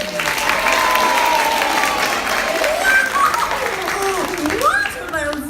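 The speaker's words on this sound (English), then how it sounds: "put your hands together and make some loud and appreciative applause" A theater audience at an Elmo live show at Disney World breaks into loud, sustained applause with cheering. Children's high voices and whoops ride over the steady clapping throughout.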